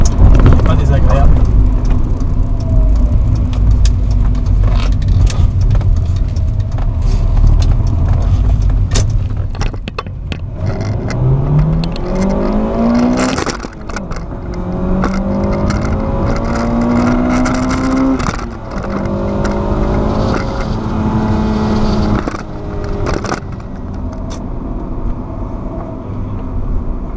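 A stock Honda Civic MB6 1.8 VTi VTEC engine revs and climbs in pitch through several gears, rising to a sharp upper howl, with someone talking over it throughout.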